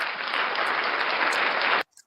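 A crowd claps steadily and loudly, a dense wash of applause that cuts off abruptly near the end, leaving a brief quiet.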